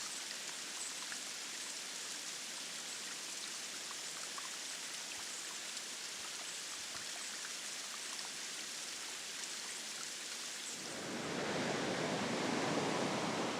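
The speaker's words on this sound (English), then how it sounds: "There were 2 similar waterfalls spilling over the bluff within a quarter mile of each other" Gold Dust Falls, a waterfall spilling over a coastal bluff at Gold Bluffs Beach, a continuous even hiss of falling water that grows fuller and louder near the end.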